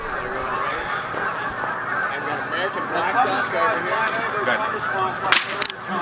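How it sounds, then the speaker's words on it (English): Black ducks calling in flight over Maryland coastal marshland, a busy chorus of honking, quacking calls running steadily throughout at moderate distance, with faint wind noise beneath. "Black ducks in the air."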